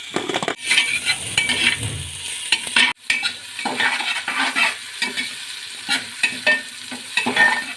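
Capsicum and green chillies sizzle in a hot pan for pudina pulao while a spoon stirs and scrapes in bursts, with brief clinks of metal, close and loud, no talk.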